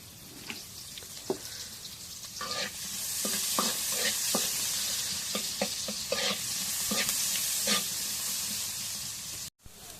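Fish pieces frying in oil in a wok make a loud, continuous hissing sizzle, broken by repeated clinks and scrapes of a stirring spatula, before a sudden brief cut near the end.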